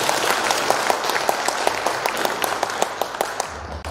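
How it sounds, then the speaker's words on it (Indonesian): Dense applause from a crowd at a NasDem party event in Blitar, Indonesia, steady and continuous with many overlapping claps throughout, filling the space without talk. "Tepuk tangan untuk kita semua."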